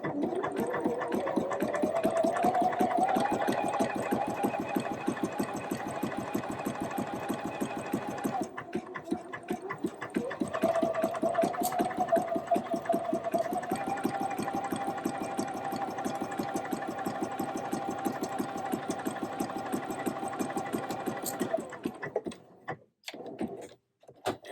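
A home sewing machine stitches through fabric with a steady, close whirring motor and rapid needle ticking. It pauses briefly partway through, then runs again before stopping near the end.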